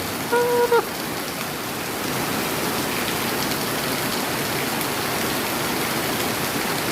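Steady, dense rainfall hisses throughout, loud and even, with a brief tonal chime near the start.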